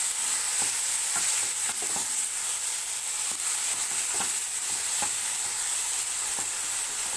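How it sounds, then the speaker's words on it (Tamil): Ground ginger and garlic paste frying in a pan for an egg keema gravy, giving a loud, continuous close-up sizzle with faint, irregular spatula scrapes running through it. "இது நல்லா வணங்கட்டும்"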